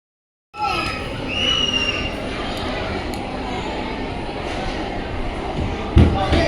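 A child-sized metro train ride at an amusement park rumbles steadily close by after a short silence, with a faint whine over it and a bump near the end, and voices can be heard.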